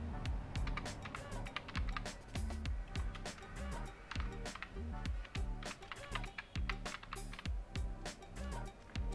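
Fast typing on a computer keyboard while making a PowerPoint presentation: dense, close clicking keystrokes in quick bursts with short gaps, no voices.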